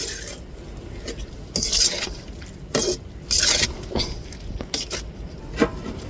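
A spoon scrapes and stirs squid cooking in a pan, with several brief scraping bursts over a low steady sizzle, fairly close.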